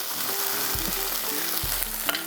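Crushed tomato without chunks spatters and sizzles in a hot frying pan, a loud continuous crackle close by, with no talking.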